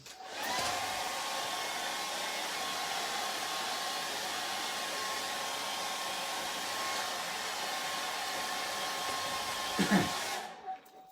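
A hair dryer used on a soft pastel flower drawing blows with a steady, loud whir for about ten seconds, then switches off with a brief clunk at the end.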